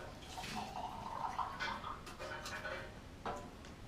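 Water poured onto sprouting seeds in a homemade seed sprouter, a close splashing trickle with a few drips and gurgles, fairly quiet and continuous.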